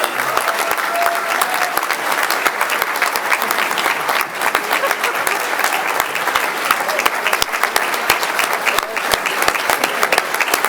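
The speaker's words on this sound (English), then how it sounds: "So give them a big round of applause." Sustained applause from a seated audience at a board meeting honoring a first-year Tier 2 grand champion, dense steady clapping filling the whole stretch, near and loud with crowd murmur underneath.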